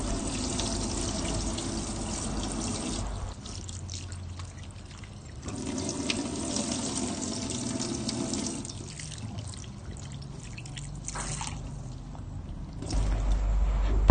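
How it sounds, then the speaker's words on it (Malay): Water splashes and trickles as 80 grams of dried anchovies are rinsed by hand, pausing briefly between bursts of running, sloshing liquid, close and moderately loud. "basuhkan 80 gram ikan bilis sehingga bersih."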